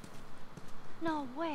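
A few soft hoof clops of a horse on hard ground in the video game The Last of Us (PS4), then a person speaks briefly near the end.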